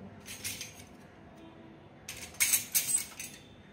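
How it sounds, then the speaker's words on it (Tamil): Small spoons clink and jangle as they are dropped into a kitchen tray, two brief bursts of bright metallic chinks close by in a quiet room. "சின்ன சின்ன ஸ்பூனெல்லாம் வந்து குட்டி குட்டியாக இருக்கிறதெல்லாம் இது இந்த ட்ரேயில் போட்டேன்."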